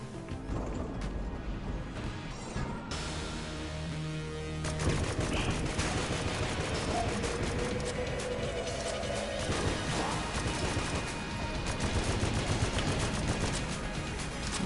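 Strafe gun firing in a boss fight in Enter the Gungeon, dense rapid bursts of game gunfire with crashes and impacts layered over music, steady and loud throughout, no talk.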